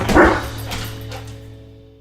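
A dog gives one close, loud bark or yelp before a walk, followed by a fading tail of quiet room tone.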